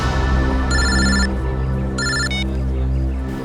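A telephone rings in two bursts of electronic trilling tones, loud and close over a low background hum.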